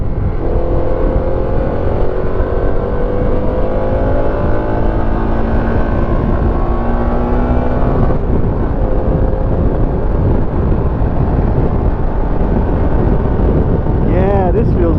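Harley-Davidson Pan America 1250 motorcycle accelerating on a demo ride at Daytona Bike Week, a loud continuous engine drone rising in pitch through the gears with a shift partway through, heavy wind noise and a rider speaking over it.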